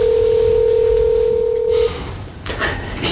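A telephone is dialed for a call: a loud, steady tone runs for nearly two seconds, then cuts off, followed by a quieter line hiss and a few brief clicks or tones near the end.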